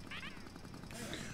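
A cat meows faintly in the background, a short rising call followed by a second softer one, beneath the ongoing noise of a Mario Kart 8 Deluxe livestream.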